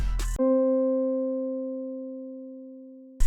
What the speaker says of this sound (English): I grabbed a key from the one shot called Real, and this is what it sounds like